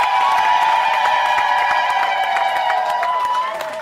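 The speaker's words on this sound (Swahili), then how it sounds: "Naomba tuwapigie makofi mengi sana wazee wanaofunga ndoa." Wedding guests applauding and cheering, with scattered sharp claps under sustained high-pitched crowd voices that hold steady for several seconds and ease off slightly at the end.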